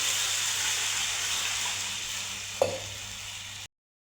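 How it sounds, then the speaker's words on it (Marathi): Water is poured into a pan of fried cumin, green chili paste and spices, giving a steady loud sizzle and hiss with one sharp splash burst near the end before it cuts off. "जिरे, हिरव्या मिरचीचं वाटण, मसाले आपले फ्राय झालेले आहे. आता पाणी टाकूया."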